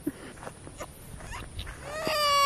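A small puppy whimpers and yips from inside a room indoors, with short thin cries repeated over a quiet background that rise into a longer, higher wail at the end.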